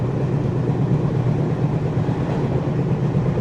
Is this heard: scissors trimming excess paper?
no